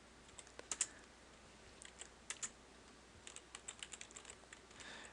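Light, scattered keystrokes on a computer keyboard while entering a line of Java code, soft clicks in small irregular clusters with pauses between them, close and fairly quiet.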